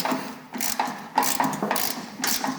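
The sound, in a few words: ratchet loosening a bolt on a snowblower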